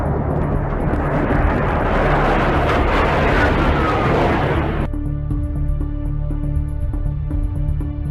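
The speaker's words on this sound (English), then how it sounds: "We have two Russian Su-24s currently conducting multiple passes at CPAs of 75 feet" Two Russian Su-24 jets making repeated close passes at about 75 feet, a loud roaring jet rush that builds and swells, then cuts off sharply into a quieter tonal hum with regular faint beeps.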